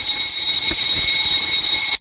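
A school fire alarm rings continuously and loudly in a steady high electronic tone, cutting off abruptly at the end.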